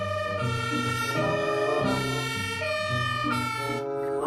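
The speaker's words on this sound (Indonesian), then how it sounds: "mobil pemadam kebakaran" A toy fire truck's electronic siren wails loudly and continuously, its tone stepping up and down in a repeating pattern throughout.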